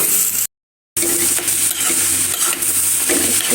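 Vegetable bhaji stir-frying in oil, with a steady broadband sizzle and scraping stirring strokes that run close and loud, broken by a brief silent gap, with no voices.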